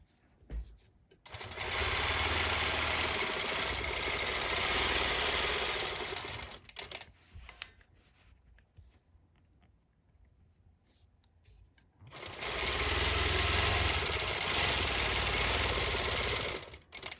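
A longarm quilting machine stitches corners in two long, loud runs of rapid mechanical needle chatter, separated by a quiet pause with faint handling sounds.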